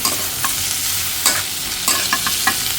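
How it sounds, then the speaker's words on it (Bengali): Steady frying hiss of potatoes with spice paste in a pan, with scraping stirs at irregular intervals as food is turned, close by, with no voices. "পেস্টটি হালকা ভাজা হলে পরে আলুগুলো দিয়ে দিচ্ছি"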